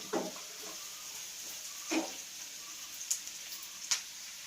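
Onions frying in a pan for Kerala beef puffs, a soft steady sizzle with a few sharper crackles and spatters, quiet and close.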